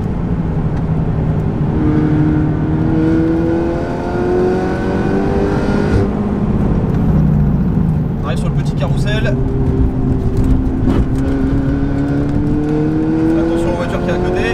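Inside a Peugeot 308 ByFactory lapping the Nürburgring, the engine rises and falls steadily in pitch through gear changes, loud and continuous, with a voice talking over it.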